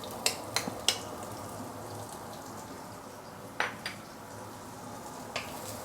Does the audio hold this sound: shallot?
yes